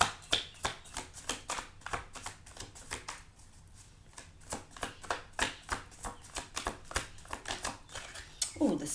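A tarot deck is shuffled in rapid riffled bursts of papery clicks, pausing briefly midway before resuming, with a card drawn near the end, all close and fairly quiet.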